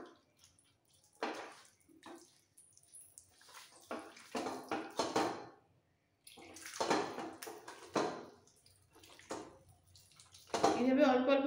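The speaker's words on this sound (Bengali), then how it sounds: "এটাকে ভালো করে চটকে চটকে অল্প অল্প জল দেব আর চটকে চটকে সিডসগুলো আলাদা করে নেব" Water poured in small amounts while bael fruit pulp is mashed by hand in a sieve: intermittent close splashing and squelching in short bursts, with a louder wet burst at the end and someone talking in between.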